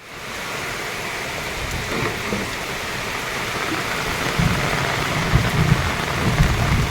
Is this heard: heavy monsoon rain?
yes